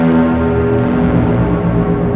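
A Korg Nu:Tekt NTS-1 synthesizer holds a loud, sustained droning tone rich in layered harmonics, steady throughout without pauses.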